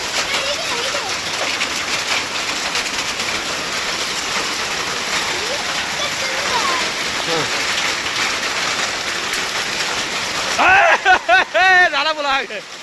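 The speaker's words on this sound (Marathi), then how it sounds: "नाही असं पाऊस पडला बघ की गारा कसा पडला." Heavy rain mixed with falling hailstones pours down in Digraj, Maharashtra, a loud, dense, steady roar of drops on surfaces; near the end people talk over the downpour.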